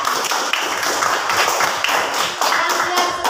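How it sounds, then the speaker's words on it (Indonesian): A classroom of students claps for a classmate, a dense, steady patter of many hands that stays at an even level for the whole stretch. "Ya, kita berikan tepuk tangan untuk Dian"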